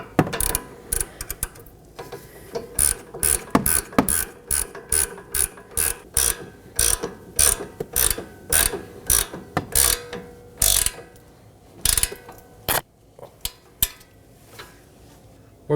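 A 5mm Allen key tightens a control arm bolt on a 2020s Toyota Corolla, heard as a rapid series of close, sharp metallic ratcheting clicks in uneven bursts throughout, with no talking.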